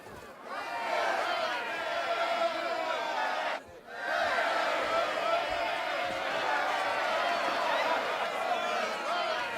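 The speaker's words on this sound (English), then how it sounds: "Enjoy the crowd's reaction" Crowd cheering and roaring in an ancient Greek theatre in the Assassin's Creed Odyssey video game, a dense, steady wall of voices with one brief dip midway.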